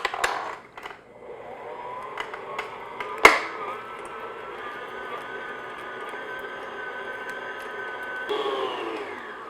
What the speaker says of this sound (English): I'm just going to put both of those in my mixer, and I'm going to beat it on low speed just until it's nice and smooth